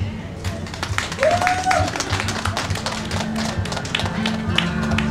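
A festival audience at the 2019 Haeundae New Year sunrise festival claps along with a dense, steady patter of hand claps under a street performer's music, with voices mixed in.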